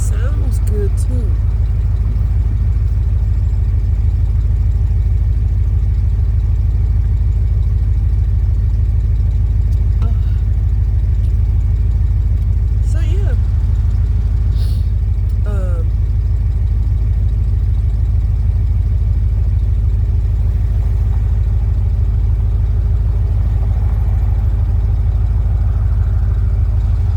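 A refurbished 1940 Chevy truck engine idling nearby, a steady low rumbling hum with faint clatter that holds throughout.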